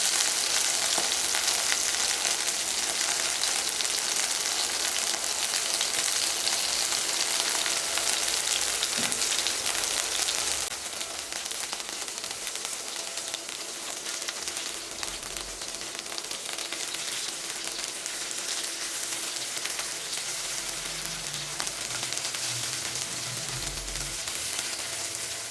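Chicken pieces deep-frying in hot oil for milk fried chicken, a steady dense sizzle and crackle that runs the whole time, loud and close, easing slightly partway through.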